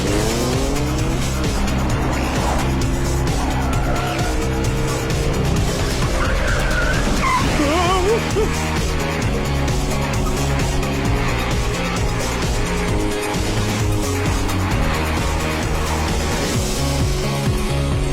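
A car tears off the road with a loud, continuous engine roar, tires squealing and skidding in sustained bursts, accompanied by a dramatic musical score throughout.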